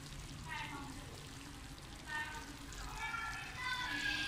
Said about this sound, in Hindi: अब मैं इसमें लहसुन अदरक का जो मैंने पानी बनाया था वो डाल दूँगी